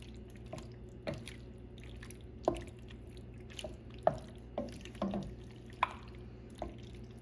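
Pasta carbonara stirred in a pan with the heat off, heard as soft, wet squishing and scraping at irregular intervals against a quiet background, close and fairly faint.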